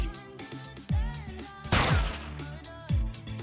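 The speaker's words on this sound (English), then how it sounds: "I just heard a single gunshot from outside." A single sharp gunshot rings out from outside, loud and echoing, amid other bursts and impacts.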